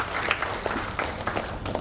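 An audience applauding the mayor at a government tourism training event in Indonesia, a dense, fairly loud and even patter of clapping throughout, without talk.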